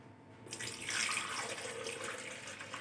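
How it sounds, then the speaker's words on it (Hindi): Water pours steadily into a medium-sized drinking glass for a mulberry juice recipe, a continuous close splashing stream that starts abruptly and runs without interruption, with no talking. "2 गिलास पानी के पहले हम थोड़ा सा पानी डालेंगे"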